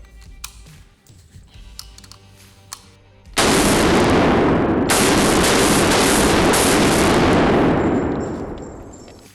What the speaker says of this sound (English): Less talking, more shooting